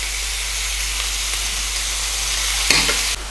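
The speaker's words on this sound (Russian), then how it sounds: "Обжариваю слегка на одной стороне и теперь обжариваю на другой." Steady, loud sizzling of vegetables frying in a pan, a continuous hiss with a brief clatter near the end.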